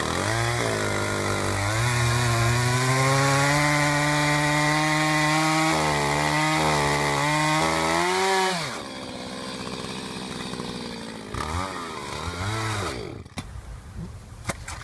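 A running chainsaw holds a loud, close, buzzing drone and then sputters, its pitch dropping and wavering as it loses fuel, before it dies out in a few uneven coughs.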